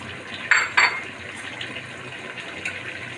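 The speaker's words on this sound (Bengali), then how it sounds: "এখন আমি মাছগুলো দিয়ে দিচ্ছি" Fried tengra fish dropped into a pot of simmering water for a taro-stem curry, giving two quick close splashes about a third of a second apart over a soft, steady background hiss.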